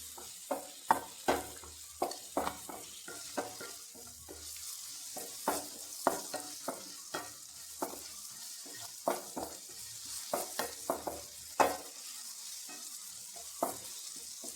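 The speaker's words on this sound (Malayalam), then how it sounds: "നന്നായി വഴറ്റി എടുത്തിട്ടുണ്ട്" A pan of peanuts and other ingredients is sautéed for egg chutney, with a steady sizzle broken by repeated scraping stir strokes at an uneven rhythm, close and without voices.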